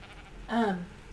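A single sheep bleats once in Ark Survival Evolved, a short wavering baa rising out of quiet background hiss and fading within half a second.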